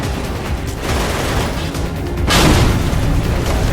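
Car-mounted weapons fire and explosions in the combat racing game Full Auto 2 on PS3 come as a loud, continuous barrage of booms and bursts, swelling into a bigger blast midway, with no talking.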